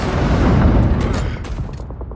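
Dense, rumbling battle noise with heavy low booms and scattered sharp bangs, loud and continuous, easing slightly toward the end, from an Overwatch animated short's battlefield scene.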